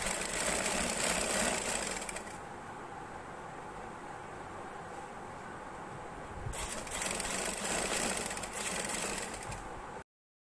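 Sewing machine stitching a baby girl's frock, a faint steady whirring run that pauses briefly in the middle and then resumes, with no talking.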